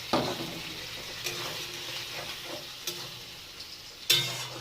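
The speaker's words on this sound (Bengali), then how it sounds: "সব দিয়ে এখন মশলাটা আমি কষাচ্ছি" Masala paste sizzles quietly in a pan while being sautéed with a little water added, a soft continuous frying hiss punctuated by occasional spoon scrapes and taps, one louder at the end.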